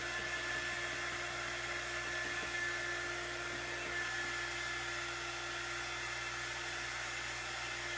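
A hair dryer blows in one steady, loud, continuous whirring drone with a constant pitch. It runs alone, with no voices.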